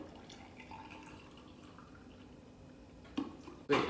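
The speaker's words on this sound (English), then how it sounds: "Top that off with some cold water." Quiet background for a few seconds, then a short splash and a louder burst of cold water pouring into a glass with a scoop of BCAA powder near the end.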